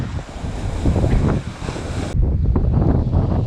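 Strong ocean waves break on a windy Maui beach, a loud, continuous surf roar mixed with heavy wind buffeting the microphone.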